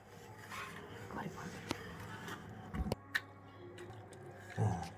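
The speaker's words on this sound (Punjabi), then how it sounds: "ਇਹਨੂੰ ਇਸ ਤਰ੍ਹਾਂ ਆਪਾਂ ਰਗੜੀ ਜਾਣਾ ਹੈਗਾ ਤਾਂ ਕਿ ਜਿਹੜਾ ਪਿੱਤਲ ਦਾ ਆਪਣੇ ਮਤਲਬ ਕਿ ਧਾਤ ਹੈ ਨਾ ਇਹ ਆਪਣੇ ਨਾਲ ਰਲਣ ਲੱਗ ਜੇ" Ghee being rubbed and pressed against a brass vessel, giving soft, irregular scraping and rubbing at close range, with a few sharper knocks of metal.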